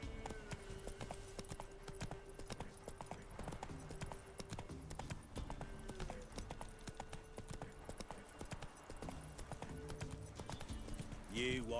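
Horse hooves clip-clop steadily in the Witcher 3 video game, a continuous rhythmic trot, faint and low in level beneath almost constant speech.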